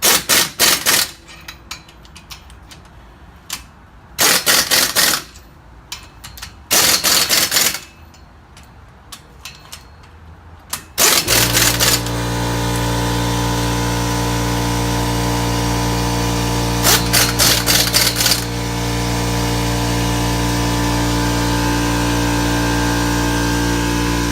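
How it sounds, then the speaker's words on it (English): An impact wrench tightens wheel spacer lug nuts on a truck in a star pattern, firing off several loud rattling bursts with pauses between them, then a long sustained run and a final short burst. "you're going to want to hit it with your impact in a star pattern."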